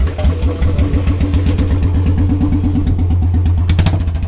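A BS4 Royal Enfield Bullet 350 fitted with a free-flow L-bend exhaust pipe runs close up with a loud, deep, evenly paced thumping beat and some mechanical clatter.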